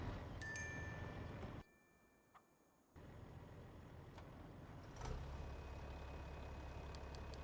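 Tractor engine idling in the Farming Simulator 25 game, a low steady rumble that drops out briefly, returns and swells slightly later on, with a few short interface tones over it and no talk.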